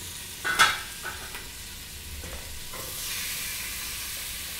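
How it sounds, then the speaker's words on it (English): Sizzling of beef searing in hot oil in a pot, with a few clinks and scrapes of stirring, a steady hiss building toward the end, close by. "You can hear it searing."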